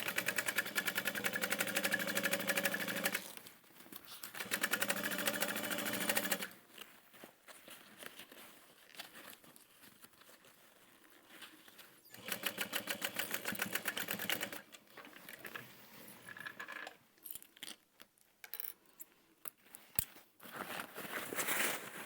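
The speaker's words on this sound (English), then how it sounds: "And sew all the way across with that 1/2 inch seam allowance." A sewing machine runs a handbag seam with a half-inch allowance in several separate bursts: steady stitching runs, brief pauses between them, and shorter stop-start runs near the end.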